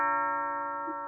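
A doorbell chime rings as one sustained, steady tone that slowly fades, close and clear with no voices.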